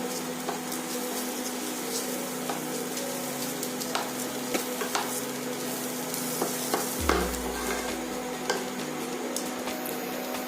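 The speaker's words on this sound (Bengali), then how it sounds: "দেখো চালটা কিন্তু ভালোভাবে ভাজা হয়ে গেছে" Steady sizzle of rice frying in a pan for sweet Bengali pulao, with occasional scraping and stirring clicks, continuous and close, with a low thump partway through; no talking.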